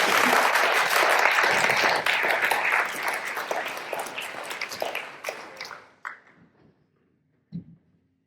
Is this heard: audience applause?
yes